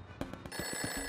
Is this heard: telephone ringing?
yes